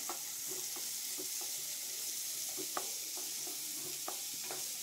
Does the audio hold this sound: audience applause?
no